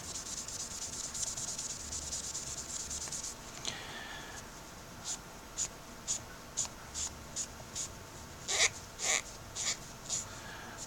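Hand sanding and polishing a plastic pipe part with fine grits on an estate pipe under restoration, a soft close scratchy rubbing that runs continuously at first, then breaks into a series of short rhythmic strokes.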